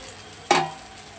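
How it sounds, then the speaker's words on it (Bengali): Cauliflower florets drop into a pan of frying masala and potatoes, setting off a single short burst of hissing sizzle that fades quickly against a faint background hum. "এবার ফুলকপিটাকে দিয়ে দিলাম"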